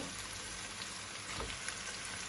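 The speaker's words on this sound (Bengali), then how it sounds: "ভুনা করার পর আমি আমার চাপগুলো এটার মধ্যে দিয়ে দিই।" Lamb chops hit a pan of frying bhuna masala, giving a steady close sizzle and crackle throughout with a brief clatter of stirring partway, no voices.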